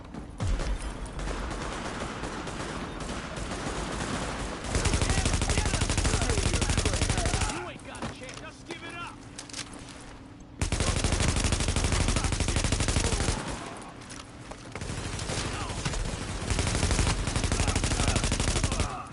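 Automatic weapon fire in The Division, with long loud bursts of rapid shots broken by short pauses and quieter gaps, and a voice in between.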